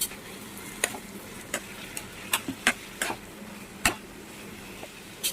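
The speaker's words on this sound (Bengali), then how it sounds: "এতে আমরা কিছুটা পরিমাণ অরিগানো দিয়ে দেবো এবং এটা আমরা ভালো করে নাড়িয়ে দেবো।" Chow mein being stirred in a pan with oregano, sharp intermittent clicks and taps of the utensil against the pan over a faint low sizzle.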